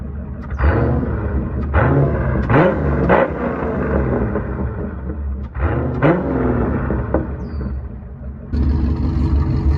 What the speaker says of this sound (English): I'll show you some revs of this thing